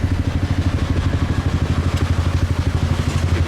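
A scooter engine chugs steadily in Saigon street traffic, its rapid, even low putter continuous and close throughout, with no voices.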